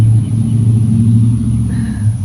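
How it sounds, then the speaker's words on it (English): Heavy trucks roll past a backyard garden, making a loud, close, low rumbling drone that holds steady for a couple of seconds. "Trucks."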